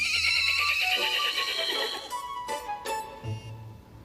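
A horse whinnies loudly in a long, shaky neigh that fades, followed by a couple of snorting breaths.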